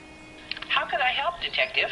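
A telephone call in the video game LA Noire plays as a short burst of filtered, phone-line voice tones and brief electronic blips, close and clear.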